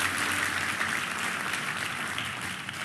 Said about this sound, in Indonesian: Boleh tepuk tangannya yang paling meriah buat Yesus Tuhan kita.